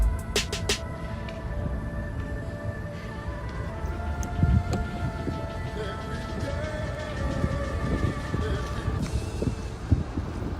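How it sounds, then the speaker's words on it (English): Wailing ambulance siren with steady pitched tones, heard through rumbling wind and road noise, persisting at moderate volume for several seconds. "That's an ambulance."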